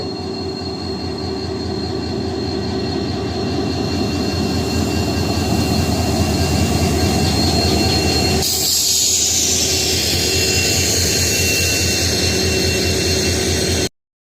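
An express train rolls along steadily with rhythmic wheel clatter, then metallic wheel squeal rises as it slows arriving at Karaikudi Junction, loud and close, with no voices.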